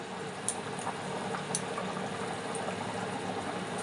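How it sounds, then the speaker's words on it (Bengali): Fish curry broth bubbles at a steady boil in a cooking pot, a continuous soft churning hiss with occasional small pops and no voices. "আমার ঝোলটা ফুটে গেছে"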